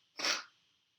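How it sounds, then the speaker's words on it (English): A single short human sneeze, one sharp breathy burst close to the microphone, followed by quiet. "Sorry if I'm sneezing a bit and coughing a bit"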